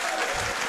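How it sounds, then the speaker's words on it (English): A brief, loud burst of crowd applause for a Melee player at a HEIR5 tournament, dense and continuous with no gaps. "let's hear a big, huge round of applause for Professor Pro"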